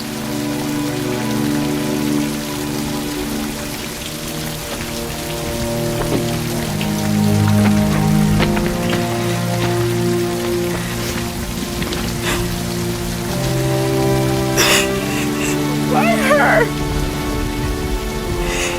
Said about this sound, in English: It's the rain. It's the drops.